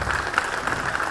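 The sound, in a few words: applause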